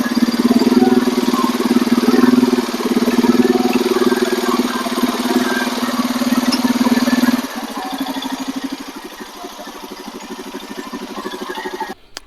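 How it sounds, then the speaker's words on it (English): A quad ATV engine revs up with the parking brake set, a loud, close, steady drone that holds for several seconds and then drops to a lower idle near the end. "I need to throttle it up there with the parking brake on"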